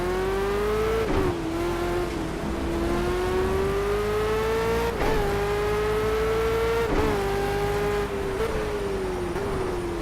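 A Ford Falcon V8 Supercar in Project CARS on the Nordschleife, its engine howling loudly and steadily with several sharp downshift blips that momentarily drop and rise the pitch, close and alone.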